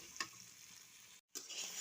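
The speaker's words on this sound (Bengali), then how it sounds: "বাঁধাকপিটা একটু নেড়ে ছেড়ে নিচ্ছি।" Shredded cabbage sizzling in a pan with fried onion and ginger, with a couple of scraping stirs and a brief dropout, close and moderately quiet.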